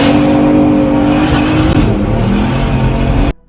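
A flood-damaged, rebuilt Bugatti Veyron accelerates hard down a back street, its engine roaring loud and near as the tires spin, then the sound cuts off abruptly at the end.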